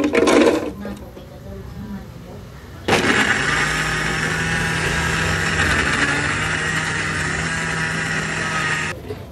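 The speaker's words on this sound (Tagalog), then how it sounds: "Then i-blend po natin yan." An electric blender starts abruptly and runs at a loud, steady high whir while blending a coffee frappe, cutting off sharply after about six seconds.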